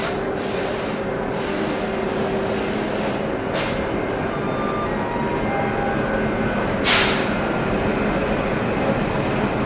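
A WAP7 electric locomotive hums steadily at idle ahead of a Sampark Kranti Express, a constant low drone with a faint tonal whine and occasional brief clanks and hisses.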